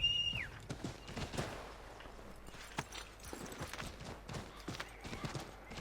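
Rhythmic clip-clop of horse hooves at a steady trotting pace in Assassin's Creed III, close and moderately loud, with scattered game-like effects and no clear talking.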